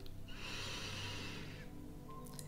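One long, audible inhale through the nose during a guided meditation, a soft airy rush lasting over a second, close and alone.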